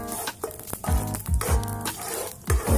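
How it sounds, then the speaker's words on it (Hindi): Cumin and nigella seeds frying in hot oil while being stirred in a pan, a soft continuous sizzle broken by repeated scraping knocks of the spoon against the pan. "इसको चलाते रहेंगे ताकि हमारा जीरा और कलौंजी अच्छी तरीके से भून जाए"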